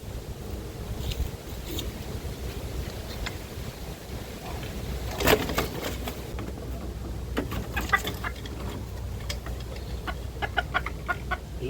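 Wild labuyo junglefowl cluck repeatedly inside a cage, a steady bed of close clucks with sharper calls and scuffling bursts throughout, no voices heard.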